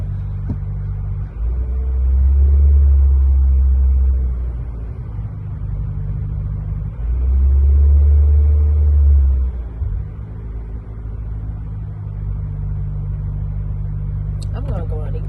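A car engine idles steadily with a low, close rumble, rising twice into longer, heavier swells of revving during a throttle body check, with a sharp clatter near the end.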